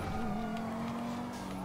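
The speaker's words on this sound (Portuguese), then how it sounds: "Cara, esse som de motor ficou legal" A tuned Golf 8 GTI in GTA V produces a steady, quiet engine drone with a sustained low tone that shifts slightly in pitch, heard on its own without speech.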